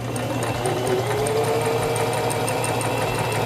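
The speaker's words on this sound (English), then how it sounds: "Release the reverse lever and sew along your seam." A sewing machine runs steadily, stitching fabric along a seam with an even, fast mechanical whir and hum that continues unbroken throughout.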